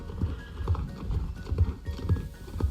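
Hoofbeats of a horse in a grand gallop during a dressage event at an equestrian festival in Star Stable Online, a steady three-beat clip-clop rhythm repeating about every half second, moderately loud and alone.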